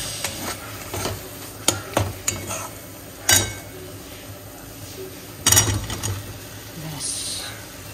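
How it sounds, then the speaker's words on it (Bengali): A spatula scraping and knocking in a pan where potatoes cook in oil with a pinch of sugar, sharp metallic hits in irregular bursts over a low sizzle, with a voice speaking at moments. "এবার একটু নাড়িয়ে চাড়িয়ে আলুগুলো দিয়ে দেবো"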